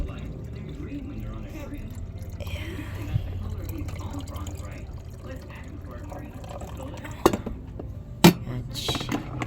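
Water poured into a brewed-coffee maker, a soft trickling fill under a person talking, with a couple of sharp clicks of dishes near the end.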